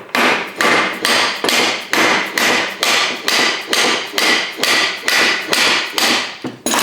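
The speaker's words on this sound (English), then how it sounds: "So you just take your hammer," A hammer strikes a 1979–1984 Harley-Davidson four-speed rotary-top gearbox main shaft with about fourteen sharp metallic knocks at a steady, regular rhythm, close and loud, with no talk.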